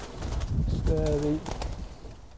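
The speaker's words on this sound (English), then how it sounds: "So this is the Mauritian pink pigeon, one of the rarest birds in the world." A Mauritian pink pigeon at a zoo gives one short, soft, low coo close by, with faint background rustling and some indistinct noise around it.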